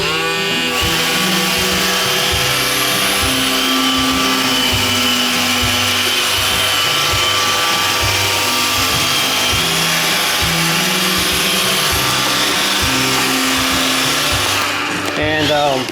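An iRobot Roomba 610 Professional Pet Series robot vacuum runs close by on the floor, its steady motor whir overlaid by rhythmic brushing and clattering bumps, stopping near the end.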